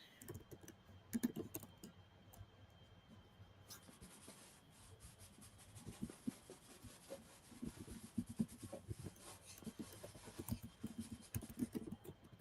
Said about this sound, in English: you notice I'm just scrubbing the paint in